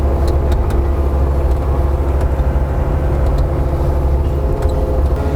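A Kubota KX057 excavator repositions during tree stump removal, its engine a steady, loud, close diesel drone with a low rumble that holds without break throughout.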